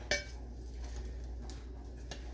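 Older clay plant pots clink against each other as they are handled, one sharp knock at the start followed by a few fainter taps, close and quiet with no talking.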